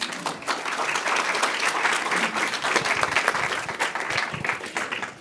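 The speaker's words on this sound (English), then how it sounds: "Let's give them one more big round of applause" An audience at an AI gathering at Google in New York City gives a long, even round of applause, dense clapping holding steady for several seconds and tapering off at the end, with no speech over it.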